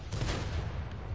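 Tank cannon fire in a World of Tanks-style battle, heard as a dense rumbling barrage of blasts and rolling booms that stays low and steady through the short moment, with no speech.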